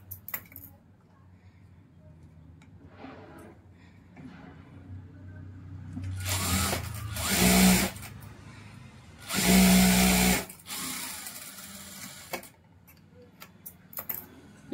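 Electric sewing machine running in two loud bursts as it stitches lining onto a cotton blouse piece, with quieter handling and clicks around it.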